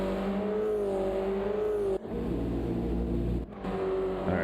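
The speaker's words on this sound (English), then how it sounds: "race car sounds." Race car engines from a racing video game, an RA NA round at Deep Forest, roar and rev steadily, with pitch sweeps and gear changes, two brief dips and loud throughout, without voices.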